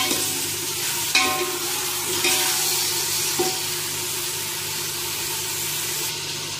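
Bone-in and boneless mutton pieces fry in a hot pan with a loud, continuous hiss and sizzle up close, broken by a few brief stirring knocks.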